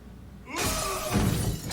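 Glass shatters loudly in a scene from the 2020 Sonic the Hedgehog film, a sudden crash of breaking panes followed by scattering debris, heard alone without talk.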